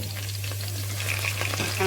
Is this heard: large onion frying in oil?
yes